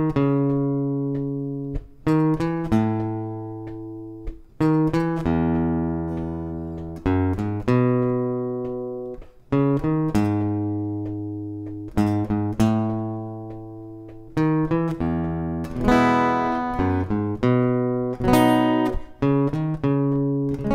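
A single instrument plays the riff of a song with chord hints, in clear repeated plucked phrases that decay between attacks, close and alone with no talking.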